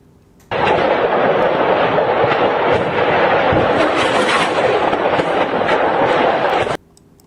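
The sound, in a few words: ammunition detonations in Melitopol, video footage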